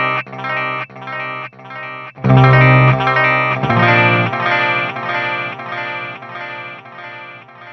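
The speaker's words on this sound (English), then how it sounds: "if you're paying close attention to that sound, you'll hear that all of the low end is gone, but the tone does not change with the echoes" A guitar is played through a Boss DD-500 delay pedal with its low cut set to 800 Hz, giving thin, bright repeated notes and chords whose echoes trail and overlap, loud and alone.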